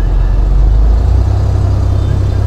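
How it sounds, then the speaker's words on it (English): A car with a cylinder 3 misfire fault revs under light throttle while in gear with the brake held, a deep, steady engine rumble close by that shifts lower partway through, with no voices. "I'm gonna give it a little throttle."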